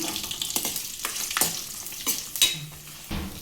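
Fenugreek seeds fry in a little hot oil, a bright close sizzle broken by several sharp scraping stirs and clinks of a spoon against the pan, with no talking.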